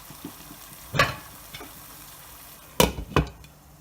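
Beef curry with cabbage being stirred in a pan over medium heat: a handful of close scraping strokes, with two sharp ones near the end, against a quiet background.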